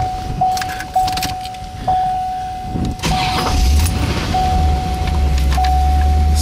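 A 1990 Chevrolet Corvette convertible with an automatic transmission: keys jingle with a repeating chime, then the engine cranks and catches into a steady low idle, close by.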